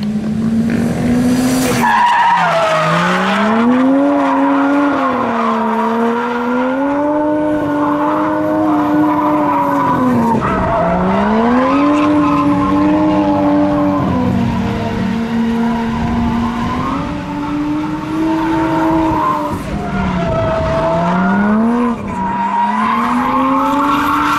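A 550 WHP Nissan Skyline R32 drifts with long, loud tire squeals over a rising and falling engine roar, sliding through several drift passes close by, with no talking.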